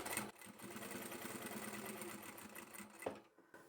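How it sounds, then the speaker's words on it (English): Sewing machine runs steadily, stitching vinyl upholstery bag fabric made from sample swatches, a continuous motor whir with a brief pause and bump near the end. "start sewing, turn your work and come along the bottom"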